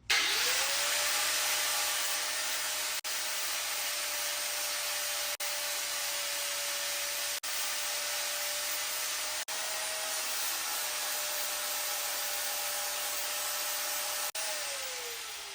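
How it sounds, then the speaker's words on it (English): A flap disc on an angle grinder cleans paint and rust off a vehicle's metal floor pan, a steady loud high-pitched whine that runs continuously without a break, dropping slightly in pitch as it bites and spinning down at the end. "We're using a flapper disc to clean it up so it can eat through it pretty quick."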